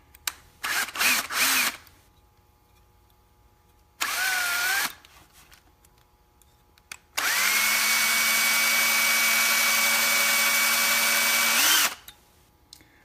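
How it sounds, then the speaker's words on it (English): A power drill whirs in a few short bursts while removing chrome fenders from a toy tractor, then runs in one long sustained whine before winding down. Quiet pauses fall between the bursts. "Then we're going to do a little drilling here."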